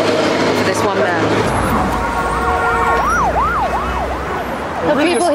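An undercover police car's siren wails loudly in rising and falling sweeps, switching to a faster yelp near the end, amid street noise and talk.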